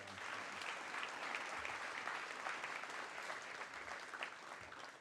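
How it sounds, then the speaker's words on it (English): A large audience claps steadily through a university honors college spring graduation celebration, a dense, sustained wash of applause for the graduates with no gaps. "Let's give them all a big round of applause."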